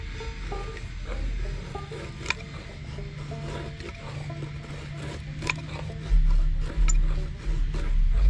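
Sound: knife making wood shavings

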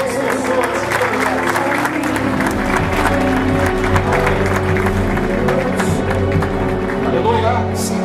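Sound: audience applause in parliament ceremony

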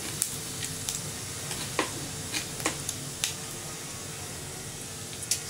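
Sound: cumin seeds sizzling in hot oil

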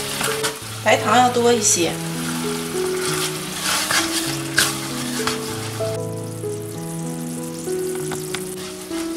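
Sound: stir-frying chicken with sweet bean sauce in a wok

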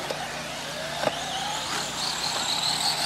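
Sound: 1/10 scale RC cars racing

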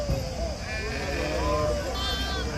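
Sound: sheep and lambs at a sheep market

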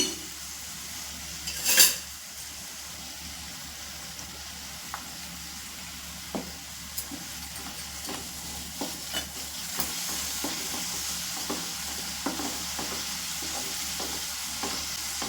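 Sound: stirring ginger garlic paste frying in a pan

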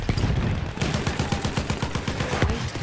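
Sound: enemy artillery barrage in video game Battlefield 1

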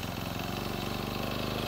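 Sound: brush cutter engine running to burn off remaining fuel

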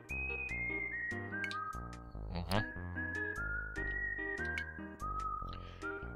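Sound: whistling tone in Super Famicom video game Gunman's Proof

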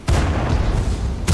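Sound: tank cannon shot in a video game

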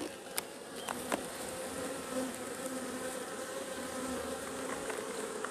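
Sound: bees buzzing in an open hive

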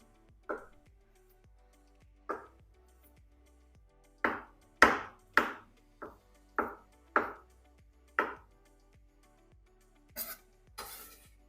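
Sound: knife chopping eggs

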